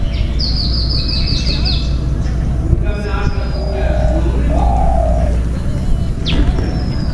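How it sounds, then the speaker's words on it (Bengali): Birds call outside a Hindu temple beside a riverside ghat, with a quick high trilling series early on, scattered whistles and chirps, and low cooing under a constant rumbling background hum. "পাখির ডাক আর নিলিবিলি, খুব সুন্দর জায়গা।"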